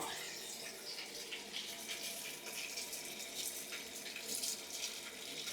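Water running steadily into a bucket while washing clothes with detergent, a continuous close splashing gush at moderate loudness with no talking over it.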